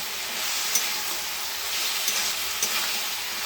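Spices and mustard paste being stir-fried in a pan, a steady close sizzle with a few sharp clinks of a spatula scraping the pan, no voices.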